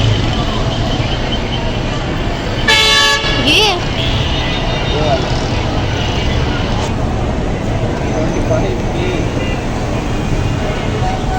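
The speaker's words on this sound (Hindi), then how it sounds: "गाड़ी आ गई है" A vehicle arrives outside and sounds a loud horn for about a second, followed by a shorter second honk, amid steady street or outdoor background noise with voices nearby.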